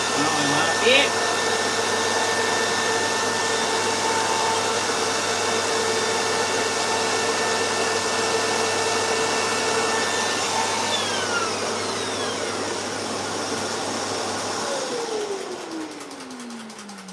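A loud, steady whine from a power tool cutting shaker-style beaded door parts, with a hose dust extractor droning alongside, holding level for about fifteen seconds before winding down and falling in pitch as the motor spins to a stop.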